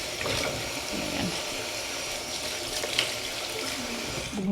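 Water runs steadily while something is rinsed at a villa in Spain, a continuous rushing hiss with faint clinks and knocks, close and moderately loud, no talk.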